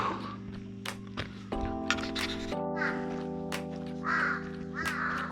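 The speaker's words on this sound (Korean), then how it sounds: "거제도에 있네 이만하게 까마귀들이 많이 사는 거 까마귀 소리 원없이 들면" Crows caw several times at a distance on a forest trail on Geoje Island, South Korea, over a steady humming drone.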